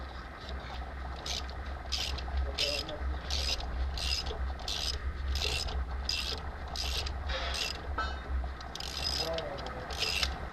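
A ratchet wrench tightens bolts on the engine of a 1997 Nissan Maxima during a head gasket and camshaft job, clicking in steady, evenly spaced strokes for the whole stretch over a low background hum.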